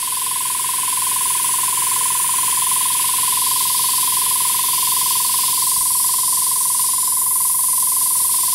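An airbrush with a rear nozzle sprays paint onto a model, giving a steady, even hiss of air and paint with a constant tone running underneath, unbroken for the whole stretch.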